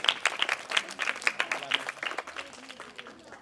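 A crowd at a school-year opening ceremony applauds, with many hands clapping in quick, uneven bursts that stay fairly close and steady before tapering slightly, with faint voices underneath.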